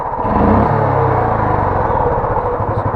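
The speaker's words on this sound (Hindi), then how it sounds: "एकदम मस्त चल रही है यार बुलेट, सुन लो साउंड कितनी" A Royal Enfield Classic 350 Bullet motorcycle, just repaired after a tik-tik engine noise, idles close by with a steady low thumping rumble and a brief slight rise in revs early on, heard alone.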